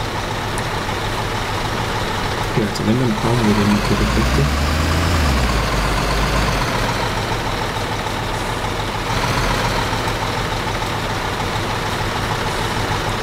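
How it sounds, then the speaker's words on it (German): A truck engine idles in the construction game Bau-Simulator 2015, a steady low rumble throughout with a brief deeper swell midway, while someone talks briefly over it in German. "Stell den LKW einfach hier irgendwo ab und komm zu mir rüber."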